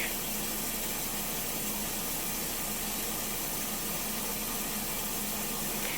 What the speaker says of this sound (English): You'll be able to hear the agitator kick.